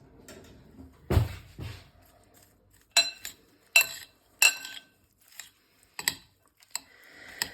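A spoon stirs good-quality olive oil for a simple bread-and-tomato dish, giving a few sharp clinks and taps against the dish that come in irregular bursts amid quiet pauses.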